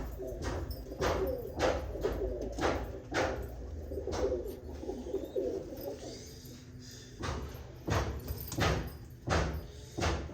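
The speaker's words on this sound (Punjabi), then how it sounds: "ਇੱਧਰ ਟੈਡ ਕਬੂਤਰ" Pigeons in a breeding loft, pairs sitting on eggs among teddy and golden birds, give repeated soft throaty coos in a steady rhythm, close and moderately loud, with occasional light clattering alongside.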